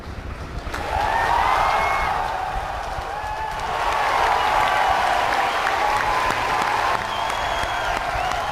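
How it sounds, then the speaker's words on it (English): A crowd at a SpaceX Falcon 9 launch breaks into sustained applause and cheering after a moment's lull, a broad wash of clapping and distant shouts holding steady for several seconds outdoors. "You can hear the crowd"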